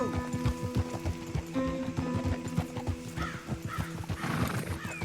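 A horse in Red Dead Redemption 2 whinnies while its hooves clip-clop in a steady rhythm close by, the neighing rising over the continuous hoofbeats.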